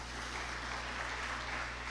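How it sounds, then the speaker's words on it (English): Steady applause from a crowd at a policy summit, a continuous even patter of clapping heard from a distance, fairly faint throughout. "that applause should be thunderous"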